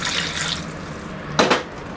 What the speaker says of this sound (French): Là je peux ajouter un tout petit peu d'eau